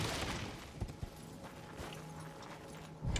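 Horse hooves clop and gallop in the Elden Ring video game, irregular thuds with a couple of heavier impacts over a quiet ambient bed, fairly soft and without speech.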